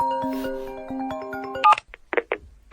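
A phone rings with a steady repeating electronic ringtone of stacked tones in a quiet room for about a second and a half, then cuts off, followed by a few short louder bursts.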